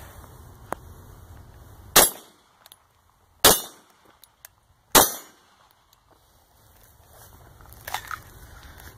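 Three sharp, loud pistol shots from an FNX 45 ring out outdoors at steady intervals of about one and a half seconds, each with a quick decaying crack, followed by a fainter pop near the end.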